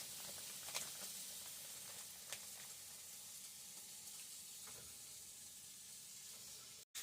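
Slices of bacon in a hot pan give a faint, steady sizzle with small scattered pops and crackles, quiet and a little distant, ending in a brief cutout.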